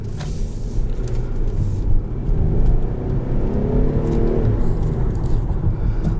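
A 2017 Infiniti QX50 with a 3.7-liter VQ V6 and automatic transmission accelerates, its engine a loud, steady, low rumbling drone heard from inside the cabin that swells slightly as it pulls.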